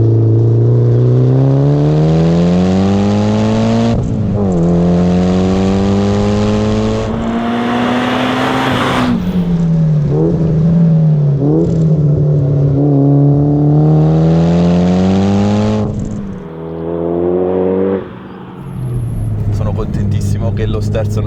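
A Mitsubishi Lancer Evolution 6 Tommi Makinen Edition RS with mechanical differentials drives hard, its engine loud and close as it climbs through revs, drops at gear changes and climbs again, while someone talks throughout.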